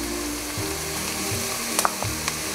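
Onions sautéing in butter in a pan, a steady close sizzle with a low mechanical hum underneath and a couple of sharp metallic clicks near the end, no talk.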